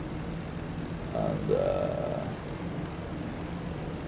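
A player's propeller plane in the Rise of Flight game drones steadily at close range as it descends toward an airport to land, with a brief swell in loudness midway and a single spoken word.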